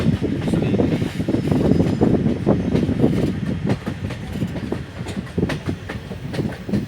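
A train runs past at a railway station, a steady loud rumble with rhythmic clicking of wheels over rail joints continuing throughout, close by and without speech.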